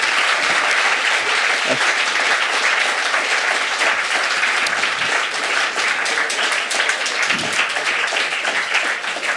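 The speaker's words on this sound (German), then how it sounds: "Also, ein riesen Applaus für alle 6 Slammer," A large audience claps for six participants at a science slam in Freiburg, producing dense, even, continuous applause that stays strong across the whole stretch without letting up.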